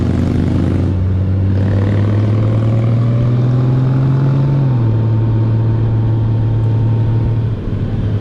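A Honda Gold Wing motorcycle cruises along a winding mountain road, its engine a loud, steady drone that shifts pitch midway as the rider changes speed, with wind rush and no talking.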